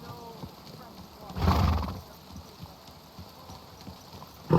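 A horse's hooves clip-clop in the video game Kingdom Come Deliverance II while riding near a city fountain in a hot, sandy setting. There is a louder burst of movement partway through against quiet background noise.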